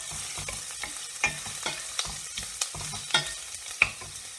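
Ginger garlic paste and spices frying in a pan for Telangana bagara rice, stirred with a spoon that scrapes and clinks in irregular strokes over a steady close sizzle.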